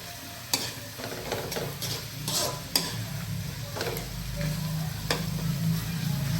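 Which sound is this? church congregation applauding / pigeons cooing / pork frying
pork frying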